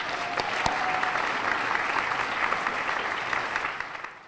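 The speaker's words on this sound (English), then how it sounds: "Let's have one more round of applause for all three." A gala crowd honoring three people breaks into warm, sustained applause, many hands clapping steadily before tapering off at the end.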